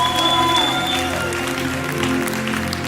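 A church congregation clapping hands in worship, dense and steady applause under a sustained droning tone, with a voice faintly audible through it.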